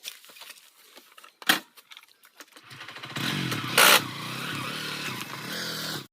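A motorcycle engine catches after a few scrapes and clatters, then roars steadily as the bike rides off, fairly close and loud, with no one speaking.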